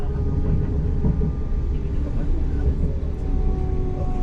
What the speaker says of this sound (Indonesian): Ada apa tadi, Nuh? Kereta lain.